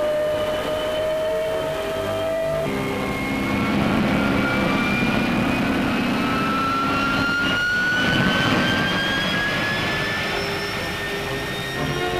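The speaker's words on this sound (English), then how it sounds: "The Shah boarded the Meteor, and during the course of a flight, he took over the controls." A Gloster Meteor jet aircraft in flight gives a loud, continuous jet-engine roar with rising whining tones, sustained for about twelve seconds and heard alone.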